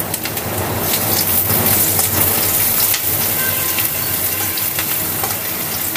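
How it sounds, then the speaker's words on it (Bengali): Crushed garlic frying in oil in a kadai gives a steady, close sizzle and crackle that holds evenly throughout, with no voices over it. "এবারে আমি রসুনগুলোকে ভেজে নেব।"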